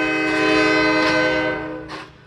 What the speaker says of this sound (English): Only the horn of a passing train was capable of drowning out the sound of pile driving at the new maintenance facility